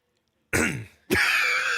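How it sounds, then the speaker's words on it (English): Two sharp, harsh coughs right up against a microphone, the second longer and rougher, after a moment of silence. "So you start by coughing into the microphone."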